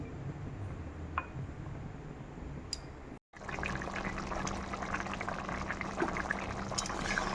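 Potatoes boiling under a lid for a white potato curry produce a faint, continuous bubbling hiss, cut by a brief silent break midway before resuming.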